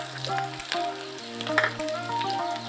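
Garlic fries in hot oil for a small fish recipe, giving a faint, steady sizzle over a quiet background with tonal sounds.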